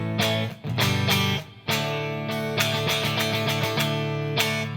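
Clean electric guitar played on a single-coil pickup in the middle position, with only reverb on, through an amp: ringing chords and single notes, close and alone, with a short gap before the playing resumes.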